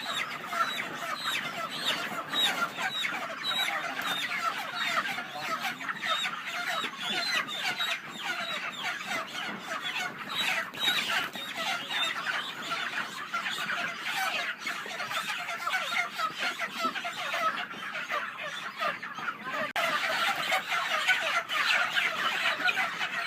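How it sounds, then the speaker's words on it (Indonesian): Panicked broiler chickens on a poultry farm cluck and squawk continuously as a dense, loud flock, with frantic calls overlapping throughout and rustling underneath. "Wah, ayam udah pada panik, mau pada ditangkepin."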